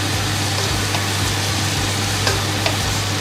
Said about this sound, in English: So next you want to add the peppers and the chili. Give that a good old mix.